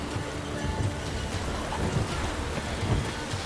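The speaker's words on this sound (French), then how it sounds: "Un orage. Il manquait plus que ça." Heavy rain pours steadily during a thunderstorm in The Witcher 3, with low rolling thunder rumbling underneath, dense and continuous with no voices.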